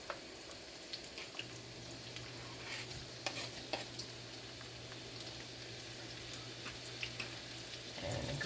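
Peppers, leeks, green onion, garlic and onion are stirred and fried in a pan, with a steady soft sizzle and intermittent scraping of the utensil running throughout.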